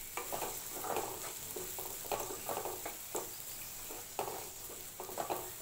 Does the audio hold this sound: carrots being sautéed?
yes